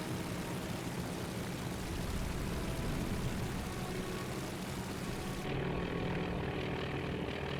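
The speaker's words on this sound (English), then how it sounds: "we have the torpedo bombers coming in" Torpedo bomber propeller engines roaring in a naval battle simulator game, a steady loud drone as the planes dive, its tone shifting and dulling partway through.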